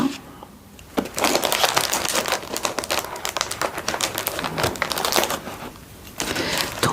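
Wrapping around a Nox perfume package crinkles and crackles as it is torn open, a dense, continuous rustling with sharp snaps and crunches, close and loud, with a short quieter pause near the start and end.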